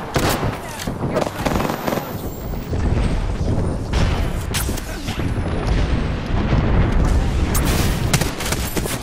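Airstrike explosions boom and rumble in a chaotic Apex Legends firefight, dense, loud and continuous for several seconds, with bursts of gunfire mixed in.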